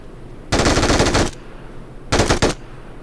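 Automatic gunfire in a video game: a long rapid burst of loud, close shots, a pause, then a second shorter burst, with no talking.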